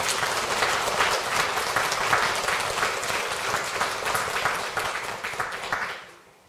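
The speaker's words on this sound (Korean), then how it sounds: "큰 박수로 환영해주시겠습니다." A congregation at a Won Buddhist dharma service gives a big round of welcoming applause, dense and loud clapping that holds steady, then thins and fades out at the end.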